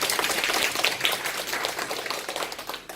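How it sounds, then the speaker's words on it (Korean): Audience applause for a lecturer after a business presentation, a steady wash of many hands clapping throughout, fairly even and sustained, fading slightly toward the end with no talk over it. "정인수 강사님 다시 한번 큰 박수 부탁드립니다"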